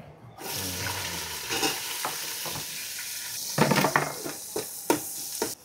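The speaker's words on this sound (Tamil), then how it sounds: "இந்தா பட்டை கிராம்பு போட்டு தாளிக்கிறோம்" Cinnamon and cloves sizzle and crackle in hot oil, with a steady frying hiss and a few sharp pops and stirring clatters, close up and with no talking.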